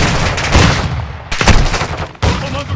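Dense automatic gunfire from a Call of Duty: Modern Warfare 2 multiplayer match, loud close bursts of rapid shots with booming impacts, cutting off abruptly and resuming in separate volleys.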